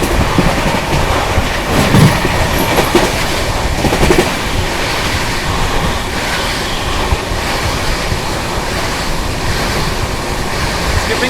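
12565 Bihar Sampark Kranti Superfast Express running at speed, heard from inside a 2AC coach: a steady, loud rumble and rushing roar with faint clickety-clack throughout, no voices.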